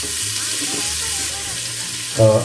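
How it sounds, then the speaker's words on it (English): Star anise, cinnamon, cloves and cardamom sizzling in hot oil over a high flame for vegetable pulao, a loud continuous frying hiss with a low hum beneath and a sharper clatter of stirring at the end. "We will now give this a good mix."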